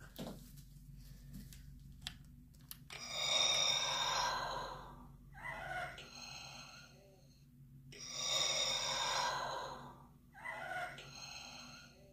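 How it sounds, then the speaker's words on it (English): Black Series Darth Vader helmet playing its damaged-voice breathing effect: two long, raspy mechanical inhale-exhale cycles, each a rising hiss followed by a rougher gasp, close and clear with quiet between. "Which is the damaged Vader voice, or breathing, which is really cool"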